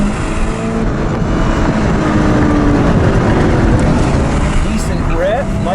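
A Genesis G70 sedan sliding with oversteer on a track gives a sustained engine drone with faint tire noise, while someone talks loudly over it throughout.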